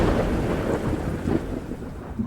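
Low rumbling thunder from an approaching storm rolls continuously outdoors, mixed with wind buffeting the microphone, fairly loud and steady throughout.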